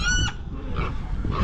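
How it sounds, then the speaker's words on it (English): Goats in a full farm paddock bleat loudly up close, one sharp cry followed by rougher grunting calls over a low rumble of background noise. "Got a full paddock this morning, ain't Sarah? The goats are all ready to go on the routine"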